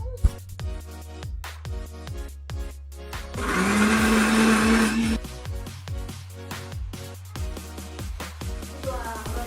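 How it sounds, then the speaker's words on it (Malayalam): A kitchen mixer grinder whirs loudly for about two seconds, blending sautéed onions into a paste, before cutting off. Rhythmic background music plays throughout. "നേരത്തെ വാട്ടിയെടുത്ത സവാള മിക്സിയിലിട്ട് അടിച്ച് പേസ്റ്റാക്കി എടുക്കുക."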